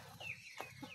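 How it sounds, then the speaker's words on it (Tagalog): A chicken clucks a few times up close in a quiet farmyard setting on Samal Island, short throaty calls with brief pauses between them. "Daming manok."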